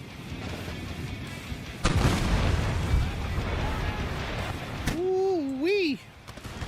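Massed musket volleys from line infantry in the strategy game Total War: Empire, heavy booming bursts rolling over a noisy battlefield bed, followed by a voice making a rising and falling whooping sound.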